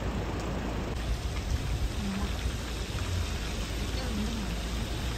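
Rain falls steadily in the mountains of Manali, Himachal Pradesh, during landslide weather, giving a continuous even hiss that stays at a constant level throughout.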